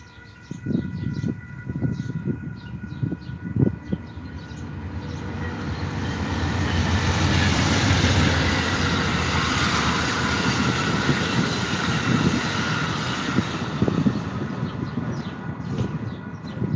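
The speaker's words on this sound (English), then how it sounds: "Quick passenger train there." A passenger train passes close by, with a loud sustained rumble of wheels on rail that swells mid-pass, punctuated by clanks and rhythmic wheel thumps and a high squealing tone.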